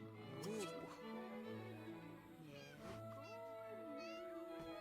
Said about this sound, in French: Oh, il est mignon tout plein ce petit chat en vrai.